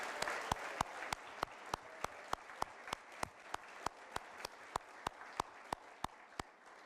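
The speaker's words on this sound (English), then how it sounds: "Let's have another round of applause for all of our awardees today." A crowd at a community awards ceremony gives a soft, scattered round of applause, with one loud nearby clapper beating a steady, even rhythm over the quieter hands throughout.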